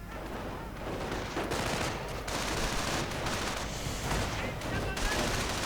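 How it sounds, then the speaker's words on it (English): Video game battle with US troops against the Wehrmacht: dense, continuous rifle and machine-gun fire with bursts of shots, loud and fairly close, thick throughout. "Troops are getting sniped, shot at, and other sorts of nasty things."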